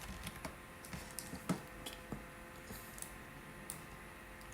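Quiet, irregular keystrokes tap on a computer keyboard while a birthday flyer is designed, with scattered single clicks and a louder press near the middle over a faint steady room hum.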